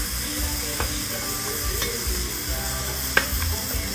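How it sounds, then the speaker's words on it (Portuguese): Onion frying in a pan for a rib and cassava dish, a steady close sizzle with a few sharp utensil scrapes and taps over it and no talking. "eu vou fritar a cebola aqui"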